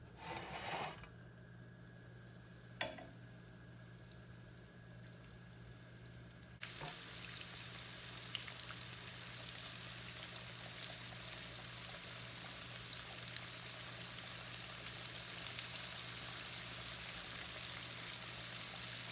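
Chicken strips dropped into hot oil start frying: after a couple of faint clinks, a sudden rise into a steady, dense sizzle that continues loud and even to the end.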